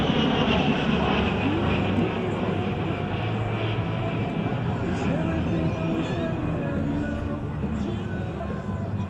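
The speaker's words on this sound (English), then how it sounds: "he will fly straight into the vertical, demonstrating the A-10's power and maneuverability in all attitudes of flight" An A-10 jet with two General Electric turbofan engines flying at an airshow in Bergen gives a sustained loud engine roar that holds steady throughout, with an announcer's voice faintly under it.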